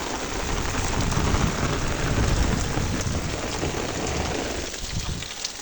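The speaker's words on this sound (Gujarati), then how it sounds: "કેવો વરસાદ જુઓ." Heavy rain pouring down outdoors, a dense continuous hiss of drops hitting surfaces, steady and fairly loud throughout with no voices.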